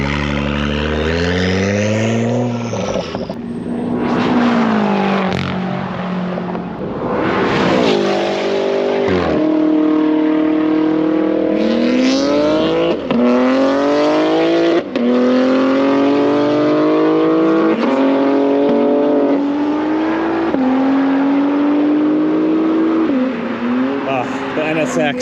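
An Acura NSX race car laps a rented racetrack, its engine climbing through rising revs with repeated gear shifts that drop and rebuild the pitch, loud and continuous, with people talking over it.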